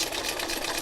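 A sewing machine stitches steadily on plastic with a rapid, even mechanical whir, loud and close throughout the brief stretch, with no voices.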